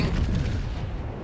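A ship's naval gun fires in World of Warships aboard the French battleship Lyon, a deep booming shot with a heavy low rumble that rolls on and decays across the moment, with no voices over it.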